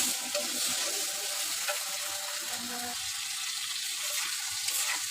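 Prawn curry with chili powder sautéing in a pan gives a steady broadband sizzle with faint stirring scrapes, close and moderately loud throughout without pauses.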